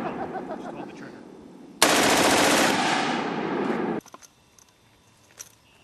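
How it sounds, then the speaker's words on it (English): A belt-fed machine gun fires a single sustained burst at a shooting range, about two seconds of loud rapid automatic fire that cuts off abruptly and is followed by quiet outdoor ambience. "It's a belt-fed weapon."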